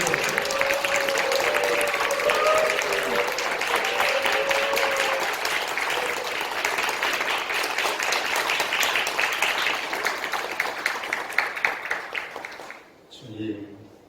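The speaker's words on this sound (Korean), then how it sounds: "박수로 맞아주십시오." A church congregation claps warmly to welcome a guest speaker to the pulpit, a dense, steady round of applause that fades out near the end, with a voice heard faintly over it at the start.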